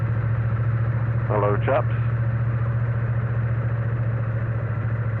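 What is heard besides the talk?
Triumph Bonneville T100 motorcycle engine idling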